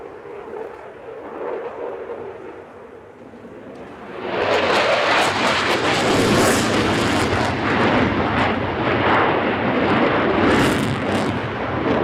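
F-16 fighter jet in a flying display at the Farnborough International Airshow, its engine rising from a distant rumble to a loud, sustained broadband roar after a few seconds and holding strong as it passes.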